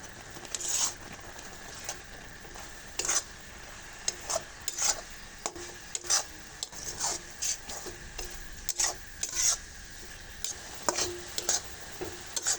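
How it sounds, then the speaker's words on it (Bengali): Freshly grated coconut is stirred into cooked jaggery for sesame ladoos, a spoon scraping in uneven repeated strokes over a faint background sizzle, with no speech. "নারকেলটা আমি খুব ভালো করে গুড়ের সঙ্গে মিশিয়ে নিয়েছি"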